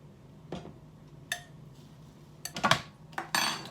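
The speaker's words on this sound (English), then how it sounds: "I'm going to be adding the dry mix into this now and then combining it again" Dry mix being stirred into banana bread batter in a bowl, with faint scrapes and sharper clinks of a utensil against the bowl coming in scattered bursts, close by and otherwise quiet.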